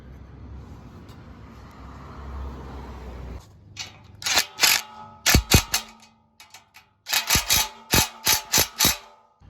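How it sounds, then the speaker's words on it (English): Bolt being fastened while installing an aluminum DeeZee headache rack on a pickup truck, close sharp ratcheting clicks in two quick bursts after a quieter stretch. "then we're gonna put the bolt through"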